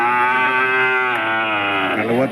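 Calves at a busy cattle fair held at a temple ground moo loudly and close by in one long, drawn-out bellowing call that wavers and bends in pitch near its end.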